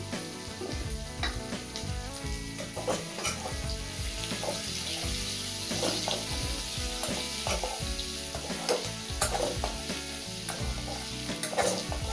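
Onions and garlic frying in a pan for ghugni, a dense continuous sizzle with repeated stirring and scraping, loud and close, no voices.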